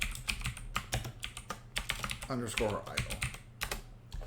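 Fingers typing on a computer keyboard while renaming an animation in game development software, a run of sharp close clicks in quick bursts, with someone speaking quietly over the keystrokes.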